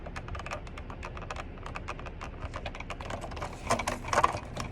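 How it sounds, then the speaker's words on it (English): Plastic center console trim in a 2022 Toyota Tundra creaks and ticks as it is flexed by hand, giving a dense run of small close-up clicks and crackles that grow louder toward the end. "It's the plastic running up against itself while it's flexing."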